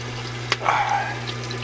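Water from a 75-gallon reef aquarium draining down into the sump below, a short close splash and gurgle over a steady low hum from the tank equipment.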